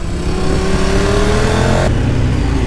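Honda CB motorcycle riding on a mountain road through the Col de Pertus, a loud steady engine drone with wind rush and a gently rising pitch, alone without talk.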